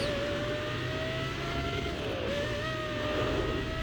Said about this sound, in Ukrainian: Звук як у боліда якогось.